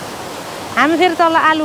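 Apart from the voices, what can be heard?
flowing river stream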